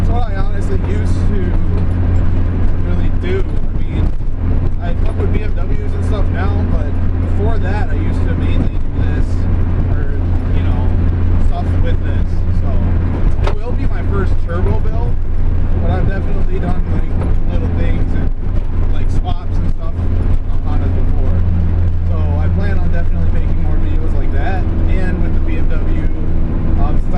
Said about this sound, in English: She's loud. JDM motor and all that.